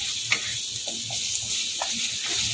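Vegetable stuffing for veg atta momo being gently stirred in a pan, a steady frying sizzle with soft intermittent scraping and stirring touches throughout.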